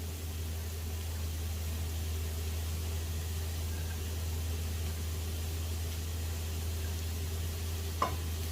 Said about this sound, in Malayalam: ഇതിലേക്ക് അരിഞ്ഞു വെച്ചിരിക്കുന്ന ക്യാരറ്റും ക്യാബേജും ഞാൻ ഇട്ട് കൊടുക്കുകയാണ്